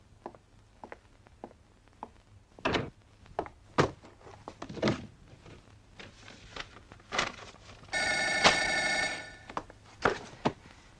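An old landline telephone in a 1989 Soviet crime drama rings with a sustained electric bell burst, amid scattered thumps, footsteps and door knocks in a room; no one speaks during it.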